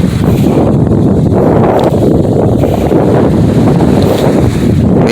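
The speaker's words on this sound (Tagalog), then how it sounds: "Hindi masyadong malakas ang hangin ngayon." Strong wind at a beach blowing straight into the microphone, a loud, constant low roar and buffeting that fills the whole stretch with no talk.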